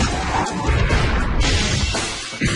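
Car crash test with a human driver behind the wheel, a loud, dense smash of impact noise that stays harsh and crunching for a couple of seconds.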